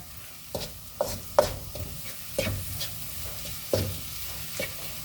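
Salt stirred into onions cooking in a pan for a vegan palak curry: a soft, steady sizzle with several sharp scraping strokes of a spoon against the pan, spaced irregularly and heard up close without talk.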